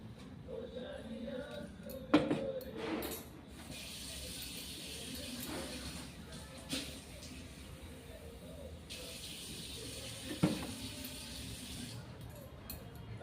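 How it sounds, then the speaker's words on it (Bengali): Water is poured into flour dough in a home kitchen, giving a faint trickling and splashing with a few brief louder bursts, while a voice talks quietly over it. "সেই কারণে দিয়ে আমি জল দিচ্ছি, দেখতে পাচ্ছেন।"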